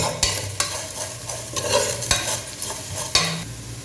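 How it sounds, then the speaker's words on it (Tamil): Spices lightly frying in oil in a pan for a chicken biryani, with repeated sharp spatula strokes scraping and stirring over a soft sizzle, close and fairly loud. "சும்மா அதே லைட்டாக கொஞ்சம் ஃப்ரை பண்ணிக்கிறேன்"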